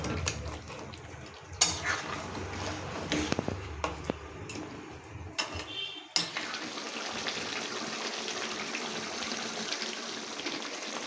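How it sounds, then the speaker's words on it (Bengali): Soaked Gobindobhog rice simmers in gravy for muri ghonto with catla fish head, a faint steady bubbling hiss in a pan, preceded by a few quiet clinks and clatters of utensils. "দেখুন বন্ধুরা, ঝোলটা কত সুন্দরভাবে ফুটছে আর গন্ধটাও বেশ দারুণ বেরিয়েছে।"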